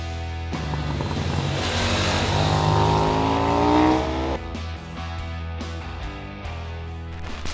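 An orange KTM 990 RC R supersport motorcycle engine revs up close and loud, its pitch sweeping upward and then dropping back to a steady, lower rumble.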